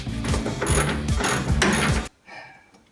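Rapid mechanical clicking of a ratchet turning a bolt on a 1965 Mustang engine, loud and close, in quick bursts for about two seconds before cutting off to a faint hum.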